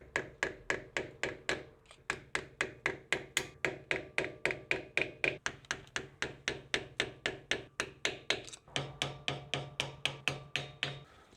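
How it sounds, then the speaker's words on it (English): Rapid, regular metallic hammer taps on a flathead screwdriver bending lock washer tabs on a Toyota Land Cruiser wheel bearing, dozens of sharp strikes in a steady rhythm, close and alone. "Taking a flathead screwdriver and a hammer, we're just going to bend some of these tabs inward"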